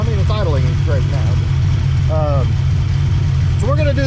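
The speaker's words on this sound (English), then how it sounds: "Well, I mean, it's idling great now." A Fox body Ford Mustang with a long-unused, gummed-up engine idles steadily and loudly throughout, a constant low rumble with people talking over it.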